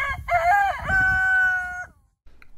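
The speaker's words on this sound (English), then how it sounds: "we started a round of chicks that we thought were dark Cornish meat birds, but turned out to be silver-laced Wyandotte." A silver-laced Wyandotte rooster crows once nearby, a loud drawn-out cock-a-doodle-doo rising then holding steady before cutting off, followed by brief quiet and faint farmyard noise.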